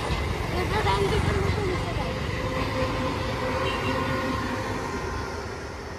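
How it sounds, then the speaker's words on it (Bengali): A passing train on a cloudy day rumbles steadily with a low, continuous roar that eases slightly toward the end, with a voice speaking over it. "দেখো ট্রেন যাচ্ছে"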